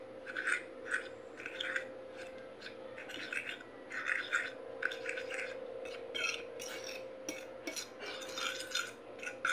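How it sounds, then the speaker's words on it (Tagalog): Flour and seasoning being stirred in a bowl for homemade calamares, heard as repeated scraping and clinking strokes in an irregular rhythm at close range over a steady background hum. "haluin lang natin siya para magsama yung harina sa ayong pampalasa"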